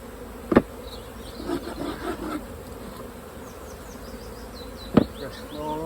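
Honey bees from powerful colonies hum and buzz around an opened hive during a colony split, a steady insect drone close by, broken by a couple of sharp knocks as hive parts are handled.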